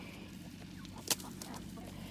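Chickens feeding on pumpkin nearby, giving soft clucks and faint pecking amid quiet rustling, with one brief sharper peck or squawk in the middle.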